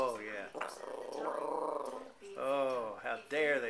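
A close, low dog growl rumbles in bursts, rising into grumbling whines between pauses.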